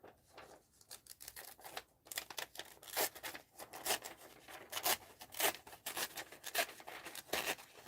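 Scissors snip through a paper page, cutting a couple of strips in a quick series of crisp, close cuts with brief pauses between runs, no talking.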